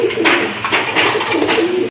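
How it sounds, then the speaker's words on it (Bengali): A pigeon at a pigeon market coos close by in repeated low, throaty rolling calls over a brief stretch. "একটা কবুতর চলে আসছে"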